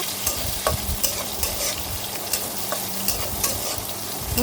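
Chopped onions frying in hot oil with garam masala give a loud, steady close-up sizzle, broken by frequent scraping clicks of a spoon stirring the pan, with no voices.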